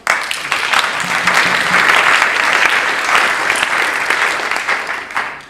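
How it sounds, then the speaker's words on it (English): A career day crowd bursts into loud, dense applause that swells and holds for several seconds before gradually thinning out. "Why don't you guys all give me a round of applause."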